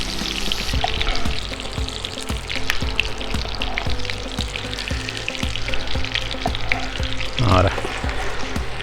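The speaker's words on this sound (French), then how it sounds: "Nos pommes de terre, on va pouvoir les poêler, pas de souci." Potatoes fry in a pan in a brasserie kitchen with a loud, dense, continuous sizzle, broken by crackles and occasional stirring knocks and scrapes.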